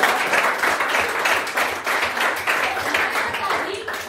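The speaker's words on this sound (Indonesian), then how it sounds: "Berikan tepuk tangan" A classroom group claps hands together in applause, a lively, fairly loud burst of many hands with uneven rhythm lasting about four seconds, with voices faintly mixed in.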